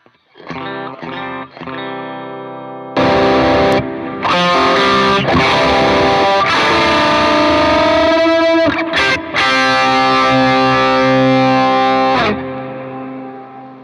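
Distorted electric guitar plays a few clipped chords, then rings out in long, loud, saturated strums with brief pauses between them.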